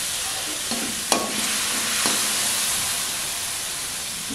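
Water poured into a hot pan of paneer curry, hissing and sizzling loudly and steadily throughout, with a couple of faint clicks from the pan or spoon.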